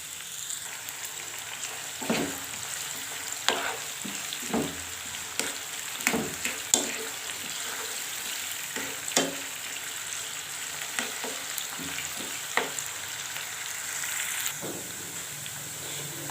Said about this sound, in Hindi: प्याज को हल्का सा सोटे करेंगे